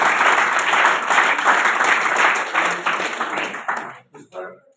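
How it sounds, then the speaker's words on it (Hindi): Audience applause at a school gathering where a school's top-500 ranking in India is announced: dense, sustained clapping from a crowd that swells and holds for several seconds, then breaks into scattered final claps and fades. "इसके लिए आप तालियां बजाएं।"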